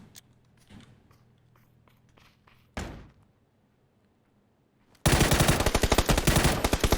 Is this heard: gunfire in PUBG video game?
yes